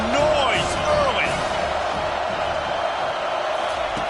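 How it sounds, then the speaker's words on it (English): Stadium crowd noise in a college football video game, a loud steady roar filling the background with a few cheers early on, under an announcer's commentary. "This crowd bringing the energy and noise early."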